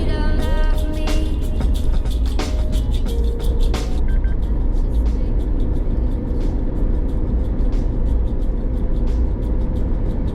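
Suzuki Jimny driving on a road after its first service, a steady low rumble of engine and road noise throughout, with intermittent beeps and chimes over it early on.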